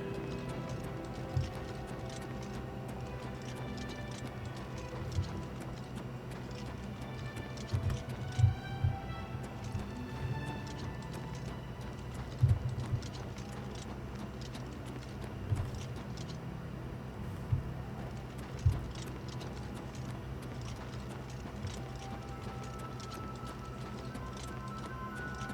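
A horse in the video game The Elder Scrolls IV: Oblivion Remastered clops along with faint, irregular hoof thuds under a steady low ambient game soundscape.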